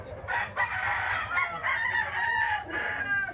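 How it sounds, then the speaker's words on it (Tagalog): A Sweater Boston gamefowl rooster crows nearby, one drawn-out cock-a-doodle-doo with a few clucks, under a faint hum of background noise. "Magandang manok."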